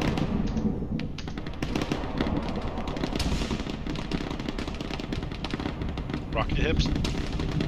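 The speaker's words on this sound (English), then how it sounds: "Friendly artillery misfire?" Artillery fire in a war video game, a busy stream of booms and crackling blasts under a brief spoken line and other game noise.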